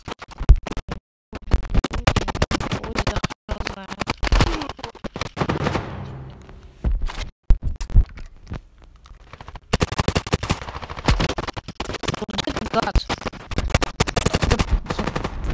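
Gunfire rings out in the mobile shooter game Standoff 2: rapid automatic bursts and single shots in loud, sharp clusters separated by short silences, with metallic handling clicks between volleys.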